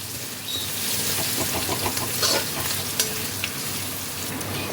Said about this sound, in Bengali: আদাটাকে একটু তেলের মধ্যে ফ্রাই করে নেব ততক্ষণ না আদার কাঁচা গন্ধটা চলে যায়